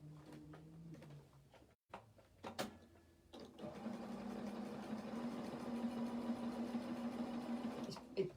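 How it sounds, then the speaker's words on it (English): A sewing machine runs steadily in triple stitch, top stitching along the edge of a denim skirt, with a sustained hum lasting several seconds after a few short starts and stops. "I'm going to go back onto my triple stitch, and I'm going to top stitch right on the edge"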